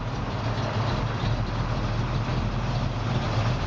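A 1972 Chevrolet C10 pickup with a Chevrolet 350 cubic inch V8 and Turbo 350 automatic idles in a steady, low rumble, heard alone at moderate distance without pause.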